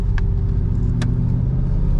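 Inside an Aston Martin V8 Vantage GT4 with a Graziano automated manual sequential gearbox, pulling away in drive on a track day, the engine rumbles steadily and loudly from up close.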